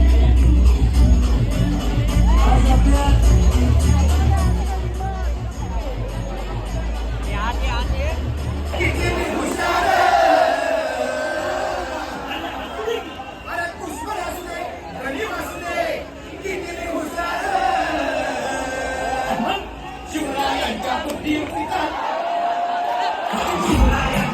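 Dense crowd hubbub at the Chinchpokli Chintamani Ganesh festival padya pujan in 2025, with steady loud chatter and scattered shouts and cheers throughout, music thumping low at first.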